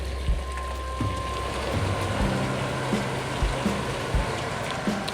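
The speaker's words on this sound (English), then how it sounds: "I forgot to turn on the exhaust fan, so excuse the noise." A steady broadband whooshing drone of a kitchen exhaust fan runs throughout at a constant level, with faint scattered clicks and knocks on top.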